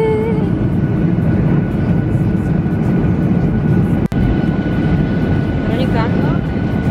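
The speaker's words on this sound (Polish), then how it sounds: "Za chwilę lądujemy." Airplane cabin noise during the approach to landing: a steady, broad engine and air roar fills the clip at constant loudness, with someone speaking over it.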